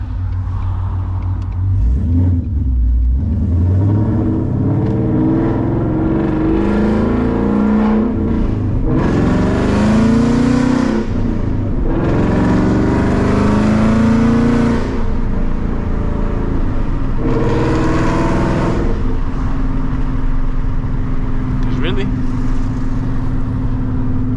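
A 2015–2023 Mustang GT with a Gen 3 Coyote V8 and aftermarket exhaust revs in several loud, drawn-out surges, deep rumbling swelling and falling between near, steady idle, with someone talking over parts of it.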